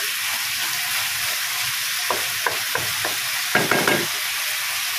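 Chicken sautéing with garlic and onion for chicken pakbet, a steady frying sizzle with scattered scraping stirs near the end, close and moderately loud, no talking.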